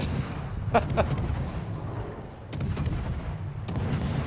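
Warship guns fire in World of Warships in several heavy, booming volleys over a constant low rumble of engine and sea noise, with no talking.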